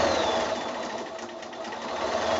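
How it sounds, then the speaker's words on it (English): A sewing machine runs steadily while stitching the first row of quilting on a quilted shoulder bag, a continuous close mechanical whir with no pauses or talking. "So this is the first row of sewing"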